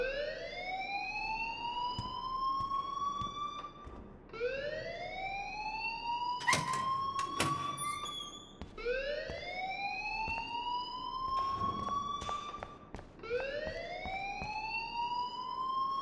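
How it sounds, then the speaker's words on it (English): A school fire alarm in the game Life is Strange, a rising whooping siren repeating about every four seconds, loud and near, broken midway by brief clanks and clatter. "please turn off that alarm since that's your job"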